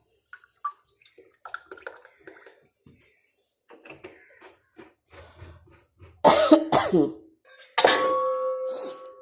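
A person with a cold gives two loud, harsh coughing fits close by, the first one chesty and repeated, after quieter kitchen clinks and running-water sounds.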